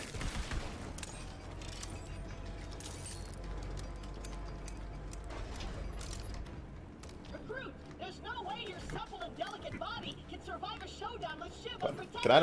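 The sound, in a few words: shotgun revolver firing in the video game Borderlands 3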